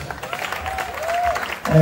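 An audience at a comedy show in Bujumbura claps in a loud, dense burst of applause, with a voice talking over it and a tonal sound rising in the middle.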